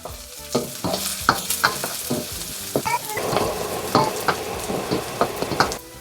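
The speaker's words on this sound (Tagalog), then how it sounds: "igisa nyo na tong ginger and shallot. Gisahin nyo maigi guys ha." Ginger and shallot sautéing in hot oil in a pan, a steady close sizzle broken by repeated scraping stirs of a utensil against the pan.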